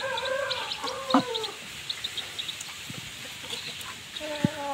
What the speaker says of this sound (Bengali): একটা ডাউক পাখির বাচ্চা আছে।